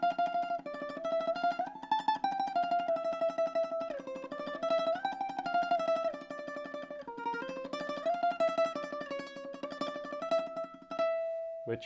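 Ukulele melody played with rapid thumb tremolo, a fast continuous pulsing strum sustaining each note, close and steady for the whole passage, ending on a held note.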